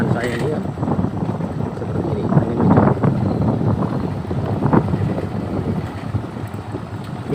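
Strong wind buffeting the microphone of a motorcycle ridden along a muddy alternative road over Gumitir, a steady loud roaring rush with no break throughout.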